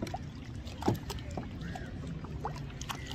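A kayak paddles on open water at Maafushi Island in the Maldives, with soft continuous splashing and lapping and a few brief, sharper paddle strokes near the microphone.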